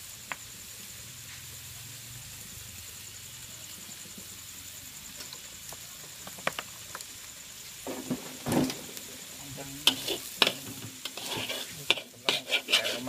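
Pork and kale fried rice stir-fried in oil, with a low sizzle under irregular scrapes and clanks of a spatula against the pan that grow busier and louder toward the end.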